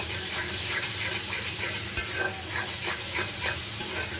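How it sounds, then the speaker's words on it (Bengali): Spice paste fries steadily in hot oil for a fish curry, a continuous close sizzle broken by a spatula's repeated soft scrapes and knocks against the pan. "মশলাটা তো আমার ভালোভাবে কষানো হয়ে গেছে, যে তেলটা উপরে ভেসে উঠেছে"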